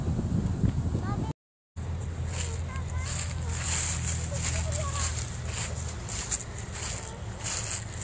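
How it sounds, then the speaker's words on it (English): Wind blowing at an outdoor playground, rumbling and buffeting against the microphone, with children and an adult talking over it. "It's the wind."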